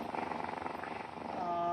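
A Moxie robot imitates a cat purring, a steady rhythmic rumbling purr held close and continuous for the whole stretch, with no speech over it.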